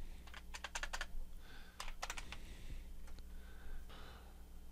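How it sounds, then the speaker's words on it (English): Fingers type a name on a computer keyboard during software setup on Ubuntu, with a quick burst of keystrokes, a pause, a second burst and a few scattered final taps, close and clear over a low background hum. "I'm going to just type in my name"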